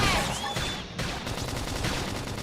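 Gunfire in the Xenoblade Chronicles X: Definitive Edition video game, a dense, continuous battle clatter that fills the whole stretch, with a brief dip near the first second and faint game effects mixed in.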